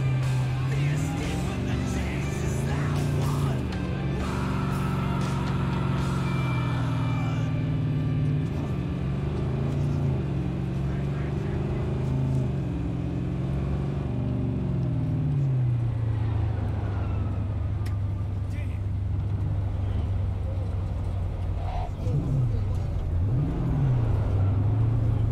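A car engine idling and revving in Cyberpunk 2077, a loud steady hum that rises and falls in pitch during the first half before settling into a low constant drone.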